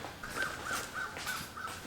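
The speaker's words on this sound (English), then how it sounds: "And there's birds." Crows caw repeatedly outdoors near a vehicle work area where a rear bumper is being fitted to a Toyota FJ Cruiser, harsh calls recurring every fraction of a second at moderate distance over steady background hiss.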